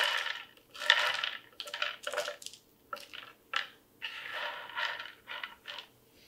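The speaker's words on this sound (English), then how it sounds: "Again, you'll note that these click when dropped on the table." Raw dehydrated pineapple cubes drop onto a table in a run of light, hard clicks and clatters, some single and some in small clusters, faint and close.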